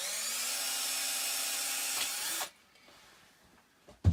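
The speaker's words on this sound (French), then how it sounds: "je prends une perceuse mèche de 3 classique et je perce tout simplement" A 3 mm bit in a handheld drill bores a hole through a new Zenoah engine part, using its cage as a jig; a steady, loud whine runs for about two and a half seconds, then stops, followed by a faint knock.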